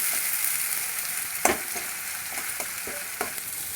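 Spice paste with turmeric sizzles steadily in a hot pan, a continuous frying hiss broken by several sharp scrapes and taps of a spoon stirring against the metal.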